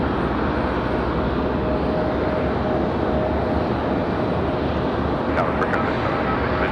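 An airliner takes off from runway 23 left at Raleigh-Durham, a steady broad jet roar with a faint whine, heard at a distance throughout while people talk.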